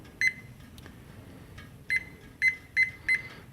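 A ThermoWorks Smoke digital thermometer being reset, giving five short, high electronic beeps, one alone followed by a quicker run of four, close by in a quiet room.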